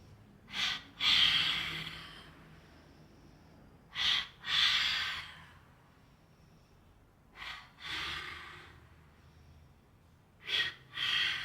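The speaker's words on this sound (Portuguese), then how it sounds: "Vamos soltar o ar em 2 tempos. Inspira em 1." Slow breathing exercise: a person inhales once and then exhales in two short counts, the breath bursts near and clear, repeating about four times with quiet pauses between.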